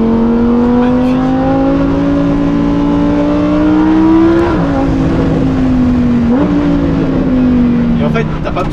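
Lamborghini Huracan EVO engine pulls hard under acceleration, its rising howl climbing steadily, then dipping briefly at two gear changes before climbing again, loud and continuous from inside the car with speech over it.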